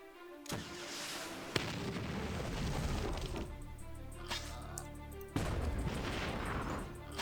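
Mega tanks firing in the strategy game Battle Nations, heavy cannon blasts with sharp onsets near 0.5, 1.6 and 5.4 seconds over a sustained rumbling battle bed, loud and close, with faint game music underneath.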